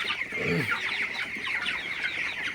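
Chickens cluck close by in a poultry farm during heavy rain, with several short clucks and calls layered over a steady background of rain.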